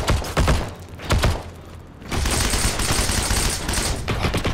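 Gunfire in the World War II shooter game Heroes and Generals: loud rapid bursts of automatic fire with heavy thumps, a brief lull, then sustained continuous firing near the listener, with no talk.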